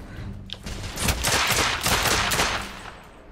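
A pistol fires in The Order: 1886, a cluster of sharp shots blurring into a dense burst of gunfire over about two seconds, moderately loud above a low background rumble.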